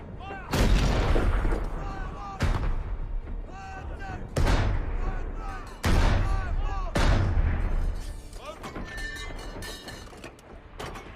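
Heavy artillery bombardment from a WWI battle film, with repeated deep booming blasts at irregular intervals, each followed by rumbling decay, loud and close over a dense low roar, with faint tonal sounds between.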